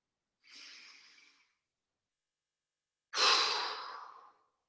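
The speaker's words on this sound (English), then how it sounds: "take a couple moments to stand and to breathe" Two audible breaths taken while standing in a qigong class, a soft breath followed after a pause by a louder, longer sighing exhale, close and alone.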